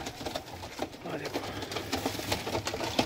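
Punjabi Malwai pigeons offered for sale coo and rustle nearby in a fairly busy mix, while someone talks over the birds.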